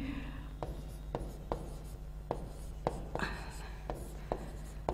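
Chalk or marker writing on a board during a Class 11 maths lesson on parabolas, heard as a series of short, sharp taps and strokes spaced through the clip over a steady room hum.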